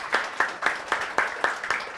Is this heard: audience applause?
yes